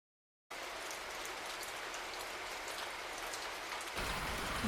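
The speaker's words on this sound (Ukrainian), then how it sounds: "звук весняного дощу" After a moment of silence, steady spring rain patters down in a dense, even hiss that continues unbroken.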